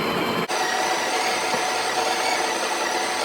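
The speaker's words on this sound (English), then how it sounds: "I'm going to hit grind, I'm going to brew myself a coffee" A Barista Touch coffee machine grinds coffee beans, a dense, steady whirring drone that kicks in abruptly after a brief pause and runs continuously at moderate loudness.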